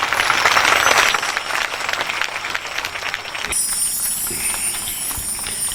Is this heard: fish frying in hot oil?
no